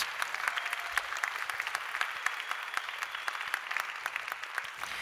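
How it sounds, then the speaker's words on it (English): Steady applause from an audience at a COP28 Education Day event honoring Teachers for the Planet, dense even clapping lasting throughout with no voices. "Please give a round of applause for all members of Teachers for the Planet."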